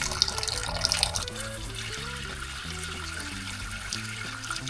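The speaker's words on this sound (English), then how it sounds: "let's add some water here. This is going to be for the potatoes." Tap water runs and splashes into a cooking pot for boiling potatoes, a steady close gurgle with shifting pitch as the pot fills, heard alone.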